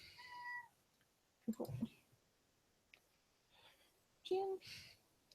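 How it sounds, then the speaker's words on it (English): A house cat meows at close range indoors, with a drawn-out call at the start and a shorter, higher-pitched meow near the end, broken by a brief burst of human talk in between. "Is your cat meowing at you?"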